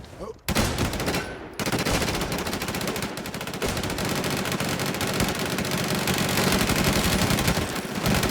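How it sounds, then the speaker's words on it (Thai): Rapid, sustained automatic gunfire fills a 50-versus-50 online shooter match, with dense overlapping bursts and volleys rattling almost continuously after a brief quiet opening. "นายยิงกูอีก"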